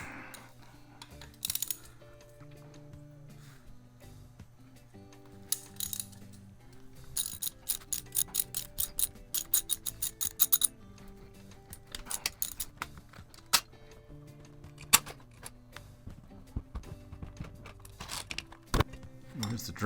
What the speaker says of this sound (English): I have to take off this little skid plate, which looks like it's just 2 bolts back here and then 2 bolts on either side here.